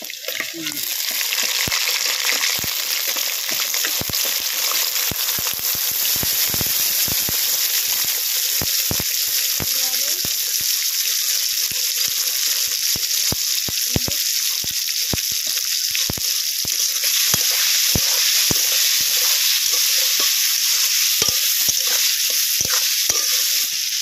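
Steady, loud sizzling of prawns frying in hot oil with nigella seeds, dried chillies and garlic, with frequent clicks and scrapes of stirring throughout.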